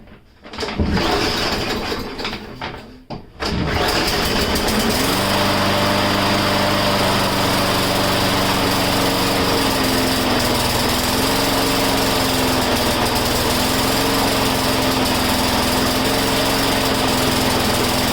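A Huskee lawn mower with a Briggs and Stratton 500e engine starts after a few seconds of pull and sputter, then runs loud and steady at high speed with a constant droning hum, no voices.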